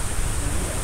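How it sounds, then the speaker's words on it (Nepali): The Octopus Waterfall in Nepal's Manang region on a motorcycle route to the Tilicho trek gives off a steady broadband rush of falling water. It sounds close and continuous, with no voices. "this is octopus waterfall"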